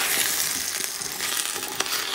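Vegetables with wilted bok choy sizzle loudly in a hot pan while being stirred, a dense continuous frying hiss broken by light scraping and clinks of the utensil, close and without talk.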